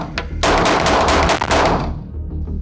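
Gunfire at a shooting training session rips out as a rapid string of loud, close shots fired in quick succession for about a second and a half, then trails off into echo, with no talking.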